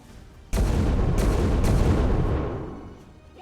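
Heavy suppressing fire in XCOM 2, a sudden loud blast that opens into a dense rumbling barrage with a few sharper cracks, then slowly fades away.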